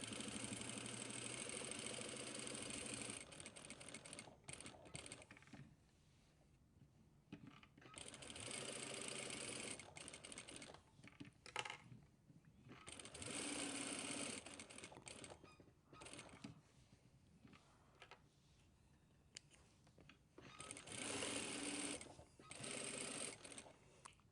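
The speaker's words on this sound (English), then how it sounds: "We'll do 2 rows of stitching." A sewing machine runs in long steady bursts, laying two rows of stitching along the edge of a fabric pocket, with short pauses between runs and faint room noise underneath.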